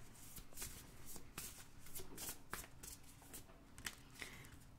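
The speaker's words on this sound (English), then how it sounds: "And I'm going to pull one card from here." A deck of cards is shuffled and a single card drawn during a card reading: a continuous run of close, crisp riffling and flicking, with sharp snaps toward the end, and no speech.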